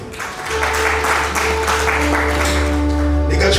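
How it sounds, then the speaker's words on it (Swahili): Congregation clapping in praise during a Swahili church service, dense steady applause filling the room throughout with sustained tones underneath. "Pigie Bwana Yesu makofi"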